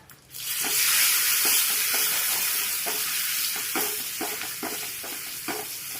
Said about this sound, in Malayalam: അതുകൊണ്ടാണ് നമ്മൾ കടുക് താളിക്കുന്നത്